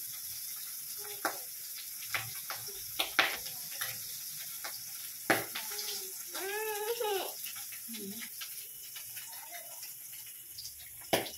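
Fish frying in a pan, with soft background sizzle broken by scattered sharp pops and crackles at irregular intervals; a voice speaks briefly partway through.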